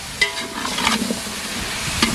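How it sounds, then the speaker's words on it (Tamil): Eggplant stirring and frying in hot oil with no water added, a steady soft sizzle with a few sharper scrapes of a spatula against the pan. "நல்லா சேர்த்து வதக்கி விட்டுலாம்"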